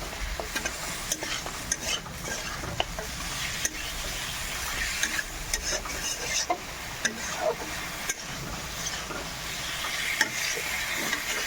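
Chicken skin fries lightly in a pan for a village-style dish, a steady sizzle with frequent stirring scrapes and small pops throughout, close and continuous with no talking.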